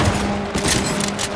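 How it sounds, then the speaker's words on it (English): Rapid bursts of gunfire from Cyberpunk 2077 crackle densely through the whole moment, loud and close, with heavy thuds mixed into the volley and no voices. "I'm under attack! Taking friendly fire!"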